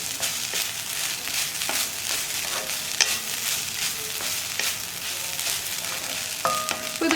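Grated coconut for tomato thoran sizzles softly in a pan while a spoon stirs and scrapes through it, with faint intermittent clinks, quiet and close with no talking.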